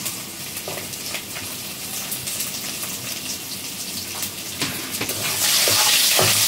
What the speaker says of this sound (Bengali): রসুন একটু কড়া করে ভেজে নিব, নর্মাল, খুব কড়া নয়।